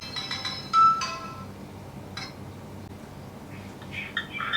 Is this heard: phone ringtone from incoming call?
yes